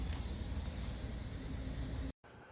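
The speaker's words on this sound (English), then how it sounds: "So I'm gonna start spraying base coat right now." Spray gun applying base coat paint to the fenders and bumper of a 2010 Ford Fusion Hybrid, a loud, steady hiss that stops abruptly near the end before resuming more quietly.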